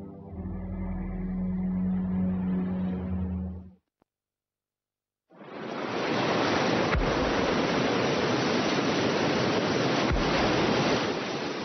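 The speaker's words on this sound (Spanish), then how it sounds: "El Mar del Sur sigue batiendo contra los acantilados de la ensenada del dinosaurio." Sea waves pounding the cliffs of a coastal cove, a loud continuous broadband roar of surf that follows a brief lull, with faint low thuds of breakers within the steady wash.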